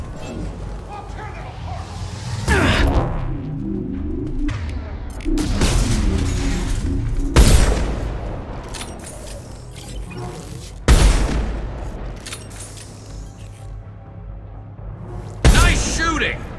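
Gunfire from the video game Mass Effect 2 during Miranda's loyalty mission: several loud, sharp booming shots at irregular intervals, each ringing out over continuous battle noise and music, with voices talking in between.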